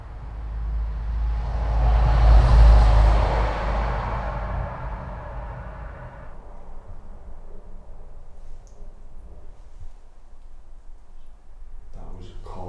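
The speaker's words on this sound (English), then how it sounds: "that was a car going by" A car passes by outside a house at night, swelling from a low rumble to a loud whoosh and then fading away into quiet room tone.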